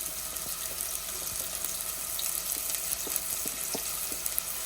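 Green chilies, fresh ginger and garlic fry over a low flame in a pan, a steady close sizzle with a few light scrapes and clicks running underneath throughout.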